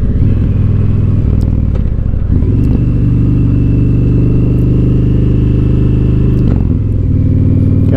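An Indian Challenger motorcycle being ridden along a curving road gives a loud, steady engine drone throughout, with brief shifts in engine note around the second and sixth-and-a-half seconds.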